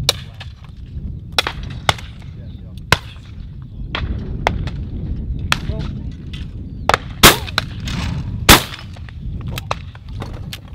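Shotguns fire at clay targets at a sporting clays event, the Beretta World Sporting 2023: a string of sharp, loud cracks, some close and some distant, spaced irregularly, often in pairs, over a low outdoor murmur.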